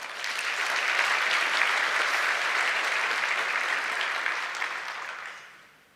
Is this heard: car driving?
no